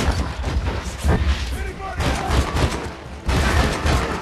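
Gunfire in the Red Dead Redemption video game, rapid shots and booming blasts in close bursts with brief lulls between, loud and harsh, with a voice shouting over parts of it.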